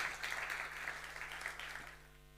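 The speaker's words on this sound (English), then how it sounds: "A round of applause for our panel, please." An audience at a festival stage applauds a panel, a faint, steady patter of clapping heard from a distance that fades out after about two seconds.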